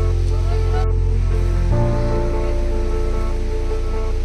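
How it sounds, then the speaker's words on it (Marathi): Rain falls during the first showers of the season in the Konkan, a steady loud hiss of drops on surfaces, heard close and unbroken with no clear talk. "पडता पाऊस"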